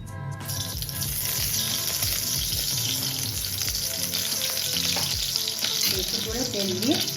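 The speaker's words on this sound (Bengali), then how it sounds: "বেশি করে তেল দিয়ে ভাজতে হবে।" Mithai mughlai, a sweet flatbread, fries in plenty of oil in a kadai, with a loud steady sizzle and crackle throughout and occasional light clinks near the end.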